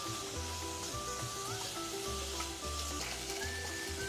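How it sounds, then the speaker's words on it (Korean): Pork belly sizzles and crackles steadily in a hot pan as it is stir-fried. A constant hiss continues throughout, with low scraping stir sounds and a faint background tone. "이렇게 볶아주세요"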